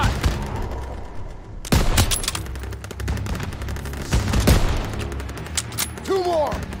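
Dense bursts of rifle and machine-gun fire in the World War II shooter Call of Duty: WW2, loud close volleys with rapid repeated shots across the whole stretch, mixed with battle noise.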